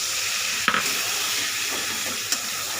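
Water poured into a hot pan of Bengali fish curry with tomato, a steady, fairly loud hiss and sizzle throughout, with a couple of brief louder spits and clinks.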